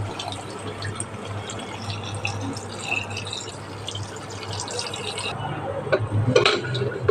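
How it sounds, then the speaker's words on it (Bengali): Water is poured into a pressure cooker holding goat head and brain for mutton head curry, making a continuous close splashing and filling sound with a few faint metallic knocks near the end. "দিয়ে দেব পরিমাণ মতো পানি"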